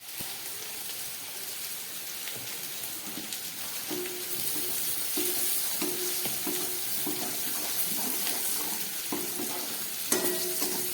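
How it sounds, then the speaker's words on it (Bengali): Eggplant with salt and turmeric fries in a pan for a Bengali dish, a steady dense sizzle like light rain, with repeated soft scraping strokes of a spatula and one sharper knock near the end. "নুন হলুদ দিয়ে বেগুনটা ভেজে নিচ্ছি।"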